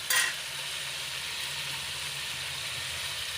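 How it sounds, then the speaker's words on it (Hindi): Chicken frying in a pan as garlic ginger paste and chili are stirred in for a chicken matar masala, a steady close sizzle with a brief louder burst at the start. "ये चिकन फ्राई हो गया है। अब मैं इसमें मसाले शामिल कर रही हूँ।"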